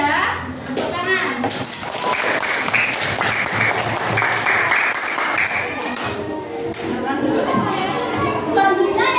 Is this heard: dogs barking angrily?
no